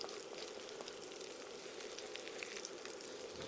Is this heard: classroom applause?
no